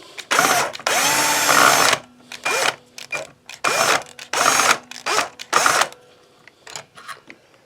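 A power drill turns the bolts on a Jay Turser Wolfgang electric guitar in a string of short, loud whirring bursts, one longer run followed by several brief stop-start pulses, close to the mic with no talk.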